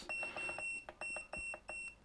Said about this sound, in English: I will lower this beep a bit because I think it's